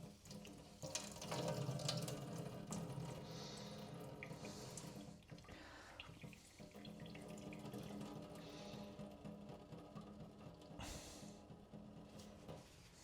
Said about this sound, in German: Quetsche ich jetzt die Flüssigkeit aus der Zucchini-Masse raus.